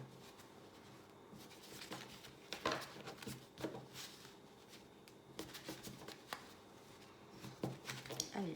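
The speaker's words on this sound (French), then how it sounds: "on fait un tirage à 5 cartes avec l'oracle de Béline" Oracle cards being shuffled and drawn for a five-card spread, giving soft riffling and papery slaps in scattered bursts, fairly faint under low room noise.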